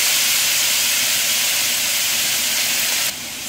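Ham sizzles in melted butter in a hot pan, a loud, steady, close-up hiss that holds evenly and then drops slightly in level near the end.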